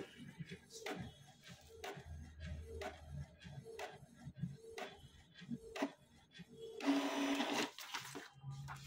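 Inkjet printer printing a test page after new ink cartridges are fitted: repeated mechanical whirring passes of the print head with clicks and ticks, ending in a louder paper-feed rush, fairly close and alone.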